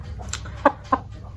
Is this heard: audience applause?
no